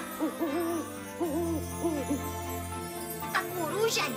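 An owl in an animated cartoon hooting in a series of warbling, wavering hoots, close and clear, with a soft tinkly chime near the end.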